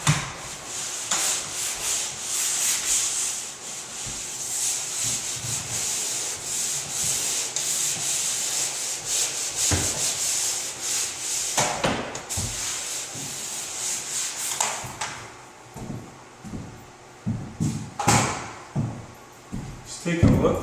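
Sanding across a drywall butt joint produces a steady abrasive scratching rub near at hand, broken in the second half into shorter separate strokes with brief pauses.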